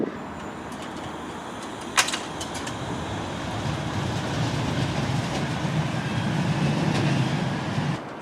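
A Manchester Metrolink tram on the Bury Line rumbles steadily along, its low hum building gradually. One brief sharp clack sounds early on, and there is no talk.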